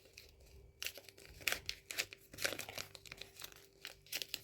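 Crinkly paper packet tearing open and rustling in a series of short, sharp bursts, close by, with no talking.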